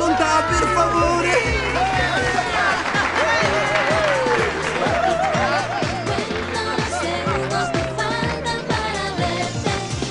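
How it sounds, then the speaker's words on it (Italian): Audience applause in a TV studio rising under loud band music with a strong beat and a melodic line, the clapping partly buried beneath the music throughout. "Applausi a volontà, per favore!"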